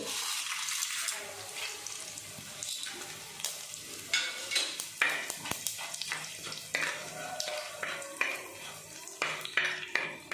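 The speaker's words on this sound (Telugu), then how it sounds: "ఆయిల్ కాగిన తర్వాత తాలింపు దినుసులు వేసుకోవడమే" Tempering spices and dried red chillies frying in hot oil, a continuous close sizzle broken by the clinks and scrapes of a ladle stirring in the pan.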